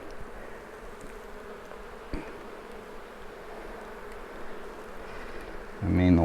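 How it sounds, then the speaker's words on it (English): Honey bees buzz steadily in a crowded open hive, a dense continuous hum with a brief knock partway through and a louder rustle near the end. "there are a lot of bees in this hive"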